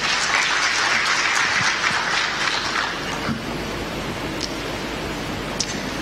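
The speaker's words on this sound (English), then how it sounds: "Can we give them a hand clap, please?" An audience at a government ministry event on labour migration claps steadily, a broad, dense patter that holds strong for about three seconds and then eases off a little while continuing to the end.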